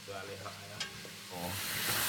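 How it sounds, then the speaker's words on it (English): Elk meat fries in a very hot pan with a soft hiss and sizzle that grows louder toward the end, beneath someone speaking. "He's frying elk meat"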